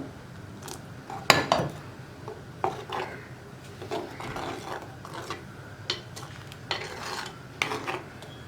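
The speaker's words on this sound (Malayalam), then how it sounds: "ഇനി ഇതൊന്ന് നന്നായിട്ട് ഇളക്കി നമ്മളൊന്ന് ചൂടാക്കി എടുക്കുക" A spoon scrapes and knocks around a pan of raw banana curry in repeated irregular strokes, close by, with soft rubbing between the louder clinks.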